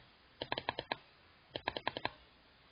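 Two quick bursts of about six crisp clicks each from a computer mouse, close and with no talking.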